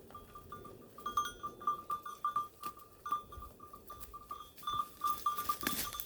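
Goats grazing on oak in the mountains at night, with repeated rustling and chewing of leaves, soft irregular movement, and a faint steady ringing tone throughout.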